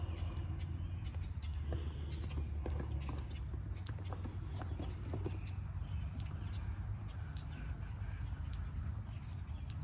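A horse's hooves clop steadily at a walking pace amid a noisy outdoor background, with crows cawing now and then.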